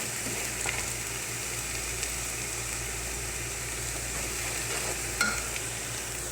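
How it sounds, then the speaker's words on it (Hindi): Onions fry to golden brown for a chicken and potato curry, producing a steady close sizzle over a low hum, with occasional spatula scrapes and pops, and no voices. "अच्छे से भून लेंगे, गोल्डन ब्राउन होने देंगे इनको।"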